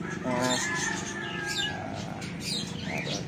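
Small birds in an aviary chirp and tweet in quick bursts, a steady mix of calls at moderate distance under a voice talking nearby.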